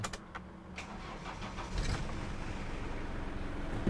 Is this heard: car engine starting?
yes